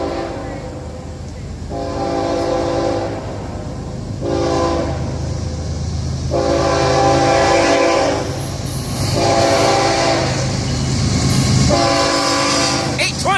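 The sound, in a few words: FEC freight train passing crossing with horn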